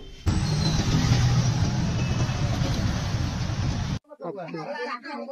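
Auto rickshaw engine running steadily and loudly at close range, a continuous rough rumble that cuts out abruptly near the end as a voice begins speaking.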